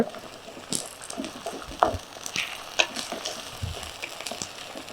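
Onions with ginger-garlic paste sauté in a pan for a paneer pickle thokku, giving a soft, steady sizzle with scattered sharp spatula scrapes and clicks close by.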